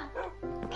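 A tamed dog in a PS4 video game gives short, yappy barks and whimpers in quick succession, close and moderately loud.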